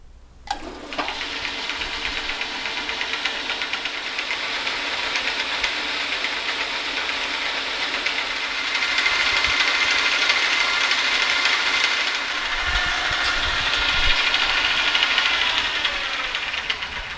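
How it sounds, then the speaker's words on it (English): A metal lathe turns down a one-inch chuck spindle adapter toward three-quarter inch, giving a steady, loud broadband hiss and whir of cutting that holds for the whole stretch and swells slightly midway, with no talking. "I want to turn that down to 3/4 inch."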